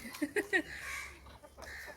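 A few short clucks from chickens close by in a village yard with ducks, three quick bursts followed by quieter farmyard murmuring.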